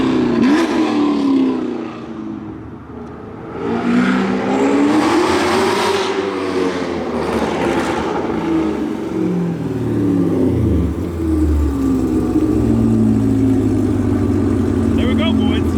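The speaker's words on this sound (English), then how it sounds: "That is the best sounding exhaust for your 6th-gen Camaro SS." A loud V8 engine in a 2021 sixth-generation Chevrolet Camaro SS with an aftermarket exhaust revs and roars with rising and falling pitch, running continuously for the whole stretch with brief surges.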